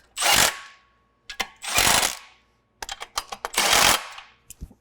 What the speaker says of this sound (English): we're gonna get these bolts tightened up